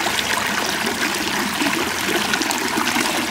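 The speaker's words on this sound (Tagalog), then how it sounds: "malakas naman yung agos ng tubig" Strong, steady rush of water flowing through an irrigation dam feeding rice fields, loud and continuous with no pauses.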